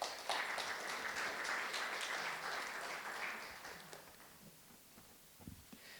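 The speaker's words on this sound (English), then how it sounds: "giving our amazing sponsors a big round of applause" An event audience breaks into a burst of applause for the sponsors, starting strong and fading out over several seconds, with faint clapping trailing off at the end.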